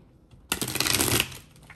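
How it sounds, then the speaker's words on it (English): A short, crisp riffle of tarot cards being shuffled, a quick flurry of papery flicks lasting under a second in a quiet room. "Let's shuffle these cards again."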